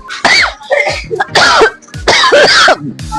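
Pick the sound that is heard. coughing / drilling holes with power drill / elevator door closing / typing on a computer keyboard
coughing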